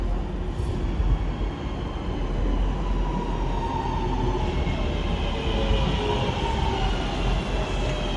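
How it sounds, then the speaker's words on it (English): A Northern class 323 passenger train pulls into Stockport station on a service from Manchester Piccadilly to Stoke-on-Trent, a continuous loud rumble with rising whine and brake hiss, no talk over it. "Arriving now is the 1355 Northern service from Manchester Piccadilly to Stoke-on-Trent."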